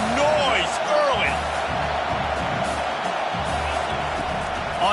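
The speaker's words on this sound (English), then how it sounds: "This crowd bringing the energy and noise early." Football stadium crowd roaring steadily throughout, a dense wash of cheering and whistles, with sports commentary talk layered over it.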